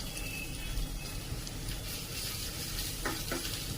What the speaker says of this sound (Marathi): तूप तापलंय तर त्यामध्ये टाकून घेऊया ठेचून घेतलेला लसूण।